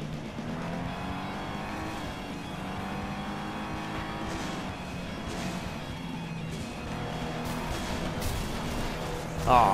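Racing car engines drone and whine continuously in the FlatOut 2 video game, loud and layered, with shifting pitch as the cars race and a sudden louder burst right at the end.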